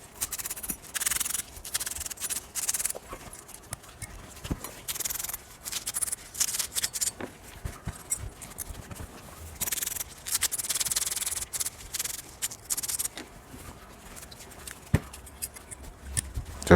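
Toyota brake pad shims are rubbed clean with steady scratchy scrubbing strokes coming in bursts, close and fairly quiet, with occasional small clicks and no talk.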